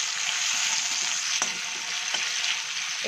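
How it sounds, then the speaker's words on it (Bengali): Salted potato strips fry in a pan with a constant bright hiss of oil, interrupted by a couple of sharp clicks from the utensil. "ওকে, আলুটাকে আমি ভেজে নিচ্ছি"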